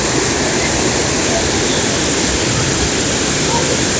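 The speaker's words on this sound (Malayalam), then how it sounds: "നല്ല രീതിയിൽ വെള്ളം പോകുന്നുണ്ട് കേട്ടോ" Jayapuram waterfall rushes with a strong flow, a loud, steady, broadband roar of falling water filling the scene without pause.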